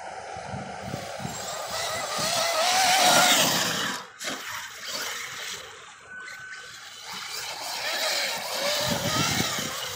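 A 2019 Arrma Outcast V3 6s BLX RC car drives and wheelies on grass, its electric motor whining up and down in surges with rustling and rumbling between bursts, mid-distance and moderately loud.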